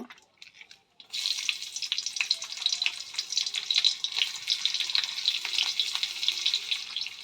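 Chopped onions dropped into a kadai with black cumin, a bright continuous sizzle that bursts in after a second of quiet and keeps crackling steadily, close and fairly loud, with no talking.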